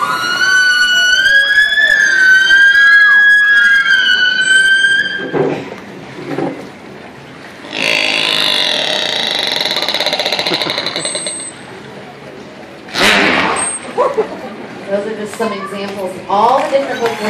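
Killer whale sounds from the blowhole: loud, squealing whistles and sliding, siren-like calls, broken by noisy raspy bursts, heard close with a few gaps.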